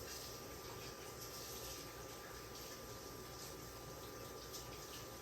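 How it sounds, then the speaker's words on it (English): Tap water runs steadily while hands are washed at a kitchen sink, a continuous soft hiss and splash with no voices. "Let me wash my hands a second because I'm a hot mess."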